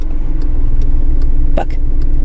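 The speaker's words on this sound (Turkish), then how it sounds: "Yapman gereken tek şey sadece yarım debriyaj yapıp aracını titretmek." A car engine shudders at half clutch on an uphill slope during driving-test practice, a steady low rumbling drone with a brief brighter burst near the end.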